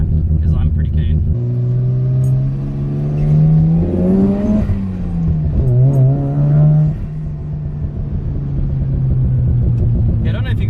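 A Mazda FD RX7 RS rotary-engined car accelerates from inside the cabin, a loud, droning engine hum rising and falling in pitch with the revs, steady and close with low rumble throughout.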